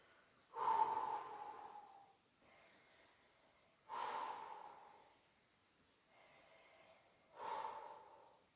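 Three slow, deep breaths during a stretching session, each a soft airy exhale swelling and fading roughly every three to four seconds, close and fairly quiet with faint room hiss between.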